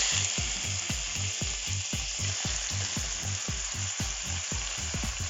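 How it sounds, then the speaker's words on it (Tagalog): Chicken gizzards drop into onions already frying in a pan, giving a dense, steady sizzle with a regular low rhythmic thumping pulse running under it, close and fairly loud, with no voices. "So lagyan na natin yung gizzard o balon-balunan."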